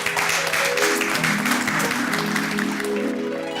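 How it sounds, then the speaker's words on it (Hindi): Loud applause from a crowd of neighbours welcoming the chief guest at an Independence Day celebration, a continuous dense clapping with music and a sliding tone running underneath. "उनके सम्मान में जोरदार तालियां।"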